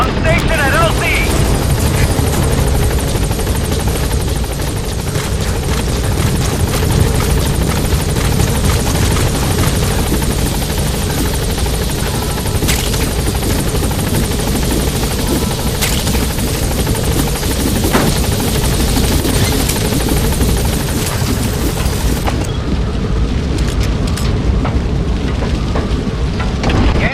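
B-Quad support helicopter from Metal Gear Solid V: The Phantom Pain arriving at a landing zone, a loud, steady rotor roar filling the whole stretch amid rain-like hiss, with radio voice talk mixed in.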